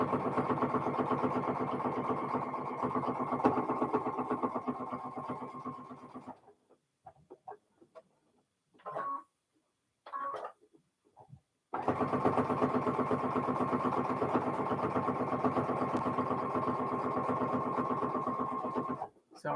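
A sewing machine stitches a quarter-inch seam around a fabric coaster in a steady, rapid mechanical run. It pauses briefly with a few short bursts in the middle, then resumes its continuous whir.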